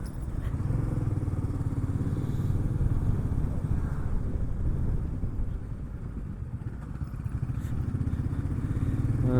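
A motorcycle carrying a rear bag tied on with bungee cords rides on the road from Goa to Pune, its engine droning steadily and loudly close by, with rumbling wind noise throughout.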